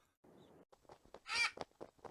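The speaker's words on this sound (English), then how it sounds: "Hey, birds flying around." Birds in a Windows 95 children's game, a few crow-like caws in quick succession, the loudest one in the middle, close and clear against a quiet background with a brief soft rustle before.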